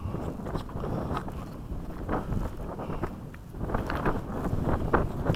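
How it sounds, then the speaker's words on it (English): Gusty wind buffets the microphone in uneven rushes, a low roaring blow that rises and falls without any voices. "Yeah, it got windy."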